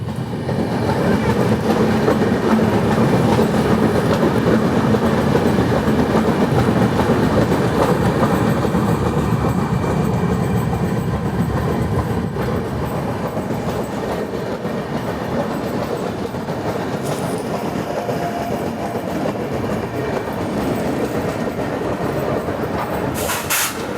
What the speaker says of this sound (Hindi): crossing Ahmedabad Howrah superfast express